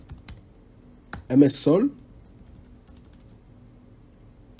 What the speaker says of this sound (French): Je vais taper la commande new